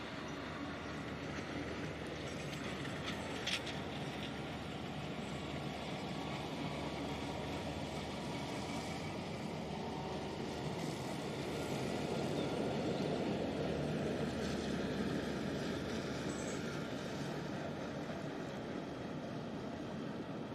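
An Airbus Beluga XL departs Manchester Airport, its engines a steady, broad roar that swells gently toward the middle and holds for about twenty seconds, with no voices over it.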